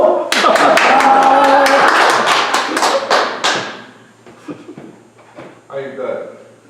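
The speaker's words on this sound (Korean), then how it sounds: "와, 이거 한 박수!" A small group claps together in a room during a church gathering, a burst of loud, dense handclaps lasting about three seconds before fading into scattered laughter and low talk.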